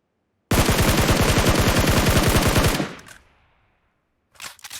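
Automatic gunfire in PUBG Mobile: one sustained rapid burst of close, loud shots lasting about two seconds, then a fading tail and a brief second burst.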